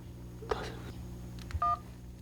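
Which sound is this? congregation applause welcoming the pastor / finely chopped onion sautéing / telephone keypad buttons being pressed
telephone keypad buttons being pressed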